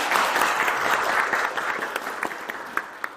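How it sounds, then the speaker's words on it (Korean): An audience at an energy-sector meeting in Saemangeum applauds a visiting candidate, a dense steady burst of clapping from many hands that thins out toward the end, with no talking over it. "방문해주신 이재명 예비 후보님께 힘찬 박수."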